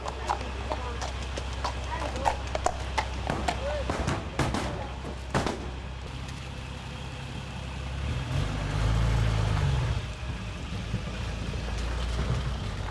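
Horses' hooves clop on a hard surface as the animals are loaded for transport to an equestrian competition, irregular sharp knocks up close, with people talking and a low engine rumble underneath.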